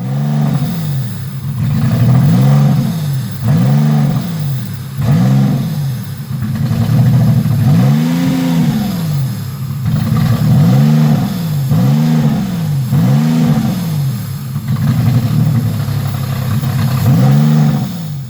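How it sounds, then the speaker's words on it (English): A small figure-8 racecar engine revs over and over in quick blips, each throttle stab climbing and dropping in pitch in a steady rhythm, loud and close with no talk. "So if I just gave it a little bit of gas, it would rev up the RPMs a lot faster than it should."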